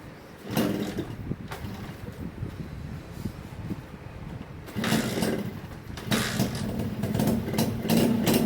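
A Honda Tena motorcycle that has sat unstarted for several days fires up and runs at a steady, close idle. The engine drops back briefly, then picks up again with a rougher, louder idle.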